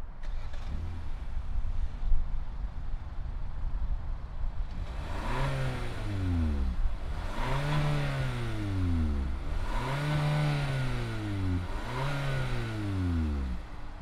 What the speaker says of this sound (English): fire up this Sonata and see what it sounds like